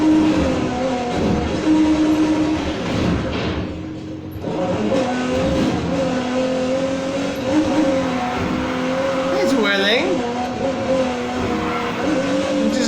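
Polestar 1 '20 driving in Need for Speed Heat, a steady loud engine drone holding pitch, briefly dipping then returning, with a short tire squeal near the end.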